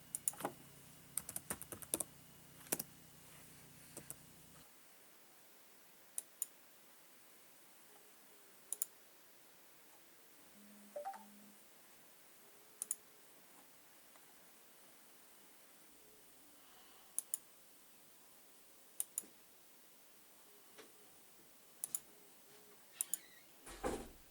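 A computer mouse clicks several times at irregular intervals, sharp, quiet, close-up ticks separated by long stretches of near silence, with a short cluster of rapid clicks at the start.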